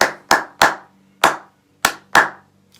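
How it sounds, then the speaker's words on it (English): Hands clap a rhythm of six sharp, loud claps alone and close up, spaced unevenly to follow a taught note pattern: two quick pairs, a pause, then another quick pair. "if we were to clap it, it would be"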